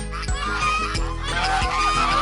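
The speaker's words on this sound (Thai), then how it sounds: "มีห่านด้วยนะครับ" Geese at a farm park giving a loud, continuous chorus of honks from a flock nearby, harsh calls overlapping with no gaps and no voices present.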